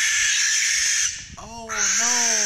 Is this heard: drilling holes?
no